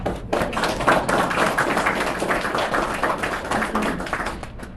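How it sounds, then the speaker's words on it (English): Round of applause for the fire department at a town council meeting, a steady, fairly close wash of many hands clapping that holds evenly for several seconds before thinning out at the end, with no talk over it. "Let's give the fire department a round of applause, please."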